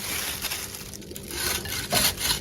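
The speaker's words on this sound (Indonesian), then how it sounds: "Selanjutnya ini mau aku serut pakai serutan kayak gini." Peeled melon rubbed across a hand grater: close, steady rasping strokes repeating in an uneven rhythm at moderate volume, with no talk.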